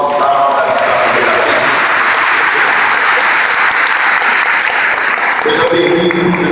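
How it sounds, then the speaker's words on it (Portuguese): A congregation at Mass breaks into sustained, dense applause, loud and steady throughout, with faint voices mixed into the clapping. "Uma salva de palmas para o Gustavo"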